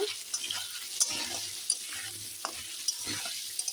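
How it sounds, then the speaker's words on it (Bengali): Potato pieces salted and frying in oil, a quiet continuous sizzle broken by several sharp clinks and scrapes of a utensil stirring in the pan, close up with no voices. "এখন আলুটা আমি ভেজে নিচ্ছি"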